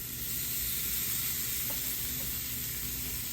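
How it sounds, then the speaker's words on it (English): A loud, steady sizzle of pork chops on a hot grill, a continuous crackling hiss that holds evenly throughout. "Oh yeah, listen to that sizzle."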